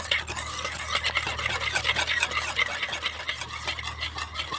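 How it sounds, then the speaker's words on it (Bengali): Yogurt and powdered sugar whisked together in a bowl for an eggless semolina cake batter: a continuous, brisk scraping and swishing, close and steady throughout, with no voices. "এবার আমি টক দই আর গুঁড়ো করা চিনিটা ফেটিয়ে নেব"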